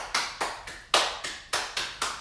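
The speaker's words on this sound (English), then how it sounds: "just clap for yourself because you're here" A yoga class claps their hands in a steady rhythm, about eight sharp, evenly spaced claps roughly a quarter second apart, close and fairly loud with no talking over them.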